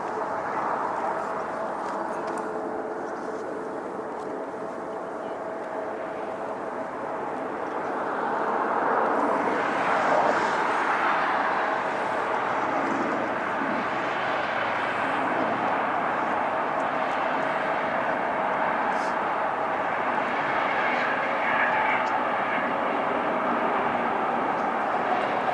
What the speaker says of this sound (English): JetBlue flight 323 coming in from JFK, New York, A321-200